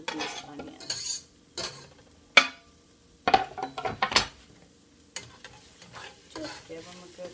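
Vegetables browning with onions in a pot on medium-high heat, heard as repeated close scrapes and clatters of a utensil stirring against the pan, in irregular bursts with quiet sizzling between.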